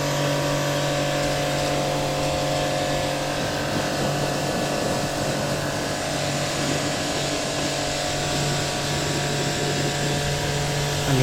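An affordable pressure washer sprays water onto a bike, making a steady, loud motor hum under a continuous hiss of spray that holds unbroken throughout.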